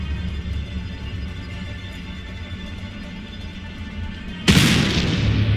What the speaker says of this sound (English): Whoa! What was that? Sounded like a gunshot.